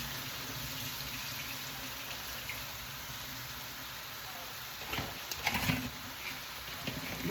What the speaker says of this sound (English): You hear the moisture in the pan there?